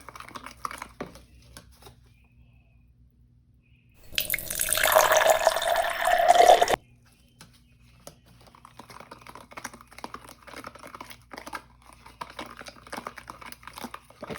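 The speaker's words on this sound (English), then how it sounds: "I think I'm gonna add a little bit more water." Water runs from a kitchen tap for a few seconds while a salmon glaze is made, a loud steady hiss standing out among quieter clicks, taps and handling noises.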